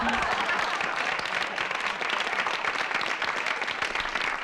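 Dense applause sound effect played on a podcast, a continuous wash of many hands clapping at steady loudness throughout, with no clear voices on top.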